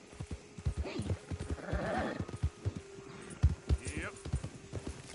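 A horse galloping in a PS4 video game, with rhythmic hoofbeats and a whinny partway through, close and fairly loud. No words are spoken.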